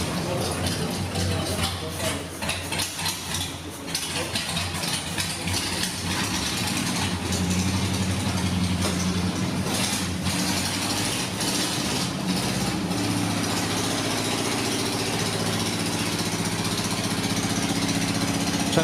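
A replica classic race car engine idles close by with a rough, steady mechanical rumble and rattling, continuous and loud throughout.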